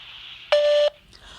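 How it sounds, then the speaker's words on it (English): A single voicemail beep, a clean steady electronic tone lasting about a third of a second, sounding loud and alone right after a recorded answering-machine greeting. "Please leave your message after the beep."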